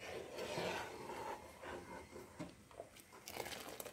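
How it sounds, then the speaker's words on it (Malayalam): Spoon scraping and rubbing through milk in a non-stick pan while cooking aval payasam, a soft continuous rasping stir with small knocks, faint and close, with no talk. "ഇനി അതൊരു 4-5 മിനിറ്റ് ഇളക്കണം."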